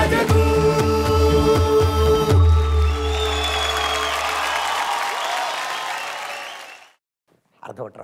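A large audience at a farmers' cup competition show erupts in loud, sustained applause and cheering that fades away, with a voice heard over the crowd at the start.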